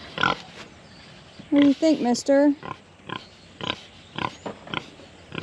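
A farm pig grunts in a short burst of several loud, close oinks, surrounded by scattered clicks and light handling noises, and someone speaks briefly before the grunting.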